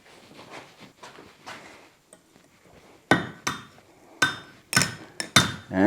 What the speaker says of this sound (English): I'm going to heat this piece and the rivet, and then I'm going to drive this piece in there.